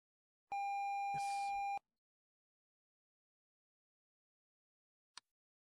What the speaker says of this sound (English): that thing was beeping though